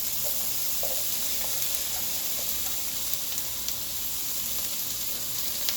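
Garlic, ginger, green chilli, onion and cashews frying in a spoonful of oil in a pan give off a faint, steady sizzling hiss with a few soft crackles.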